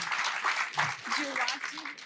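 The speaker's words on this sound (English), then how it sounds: "Big round of applause for Lindsay, please" An audience at a community dialogue event applauds, steady clapping of moderate loudness throughout, with a person speaking over it.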